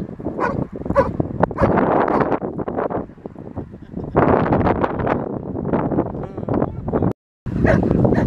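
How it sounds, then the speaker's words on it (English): A giant schnauzer barks repeatedly in sharp, loud bursts outdoors, with wind buffeting the microphone and a short silent gap near the end. "Giant schnauzer."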